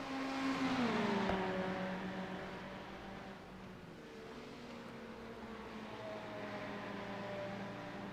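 GT3 race cars racing at Mid-Ohio, an engine roar sweeping past with a falling pitch, followed by further cars whining by more distantly under steady track noise.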